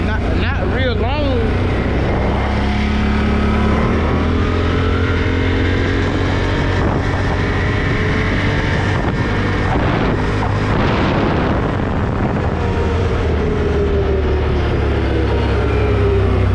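A 2021 Can-Am Renegade 570 XMR ATV accelerates at half throttle while being ridden, its engine droning loudly and steadily up close, with wind noise and talk over the top.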